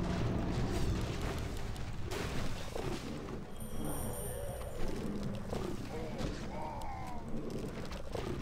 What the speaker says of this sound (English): More explosions.